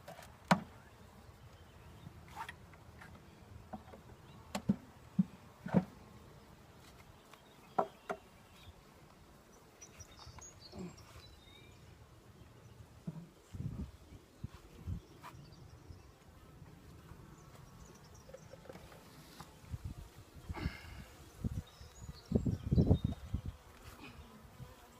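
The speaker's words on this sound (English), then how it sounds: "I keep thinking I'm hearing an angry bee buzzing" An angry bee buzzes near a hive during an inspection, in intermittent bursts that come and go over a quiet outdoor background, with scattered clicks and knocks between them.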